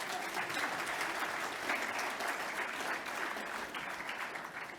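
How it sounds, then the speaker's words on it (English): An audience at an Australian Sikh event gives a warm round of applause, thick continuous clapping with some uneven swells that tapers off slightly toward the end. "Give yourself a round of applause."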